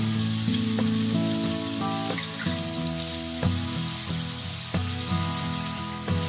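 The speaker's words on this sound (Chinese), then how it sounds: "底面煎黄后翻一面继续煎。" Hairtail fish pieces coated in starch frying in hot oil in a pan, a constant loud sizzle and crackle with a few sharp pops and spits scattered across it.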